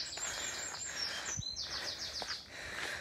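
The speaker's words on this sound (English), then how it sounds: "Birds are in fine form." Birds sing in Marbury Park, Northwich, with bright, high chirps and trills repeating through the moment, fairly close and clear over a soft outdoor hush.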